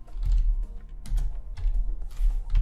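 Rapid keystrokes on a computer keyboard while code is typed for Power BI conditional formatting, a close, steady clatter in quick bursts with short pauses between them.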